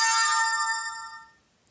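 A tablet plays a short bright chime notification, a single ringing tone that sustains briefly and fades out into silence.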